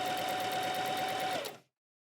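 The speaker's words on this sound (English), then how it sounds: "We set our machine to straight stitch, and we stitch along the edge on the inside of the zigzag stitch." A sewing machine runs a straight stitch along a fabric seam, a steady close mechanical whir with rapid even needle clatter for about a second and a half, then it slows and stops abruptly, leaving silence.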